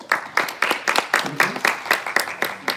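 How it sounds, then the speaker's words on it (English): Sparse, evenly spaced claps, about a dozen in under three seconds, from a small group at a high-level United Nations Environment Assembly debriefing, close and distinct with a steady rhythm. "they really deserve our thanks and a small applause"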